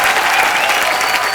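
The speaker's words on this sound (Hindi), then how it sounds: "आइए फिर जोरदार तालियां एक बार।" Loud, dense applause from a studio audience at a comedy talk show, a brief continuous burst of clapping close up with no talking over it.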